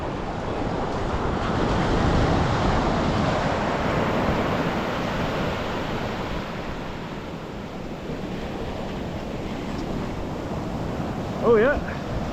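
Surf breaks continuously on the beach at Monknash on the Bristol Channel in South Wales, a broad loud wash of waves mixed with wind buffeting the microphone, with a brief murmur near the end.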